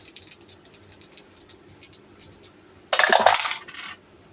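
Dice tumbling and clattering in a burst, rolled during a Memoir '44 Pacific Theater board game, a single loud rattle of about half a second following quieter light clicks.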